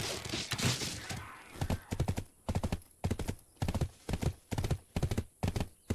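Rhythmic clip-clop of horse hooves trotting in a video game, close and distinct, with a short snort or whinny at the start.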